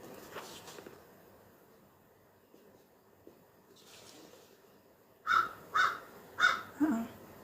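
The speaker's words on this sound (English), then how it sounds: "There's a bird right outside my door." A bird calls four times in quick succession just outside a door, loud and close against a quiet indoor room, with faint handling noises earlier.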